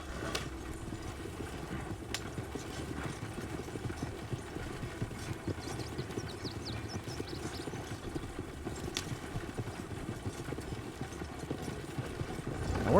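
A horse-drawn wagon rolling along in a Red Dead video game, with steady, quiet clip-clop hoofbeats over a low rumble of the wheels throughout, and no talk.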